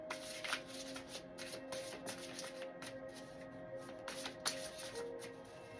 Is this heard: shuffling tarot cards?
yes